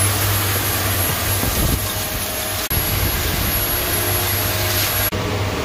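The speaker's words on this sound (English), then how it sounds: "This type of vacuum, I think it's called a stick vacuum, works great for getting underneath as well as underneath the rack as well." A stick vacuum cleaner running inside a home crypto mining shed gives a loud, steady droning whine that holds without a break, with two brief dips in intensity and no talking.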